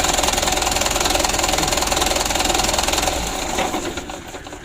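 Diesel engine of a Mitsubishi Canter 136 PS HDL truck with a hard-starting, jerky fault, idling roughly with a steady close mechanical rattle that fades as the engine is shut off near the end.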